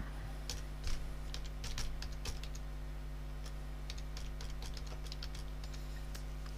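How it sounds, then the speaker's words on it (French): Typing a search on a computer keyboard, quick light key clicks in short irregular bursts, close and fairly quiet over a steady low electrical hum. "vous allez donc taper Collège Émile Malle"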